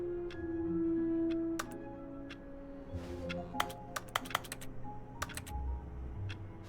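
Sharp keyboard-like clicks from The Stanley Parable video game, a sparse run of single taps followed by a quicker cluster, crisp and close over a low background hum.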